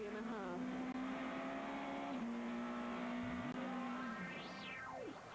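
A Super 2000 rally car drives a stage of the 2006 Australian Rally Championship's Great Lakes Rally. Its engine drones steadily, then the pitch rises and drops sharply as the car shifts and passes close by.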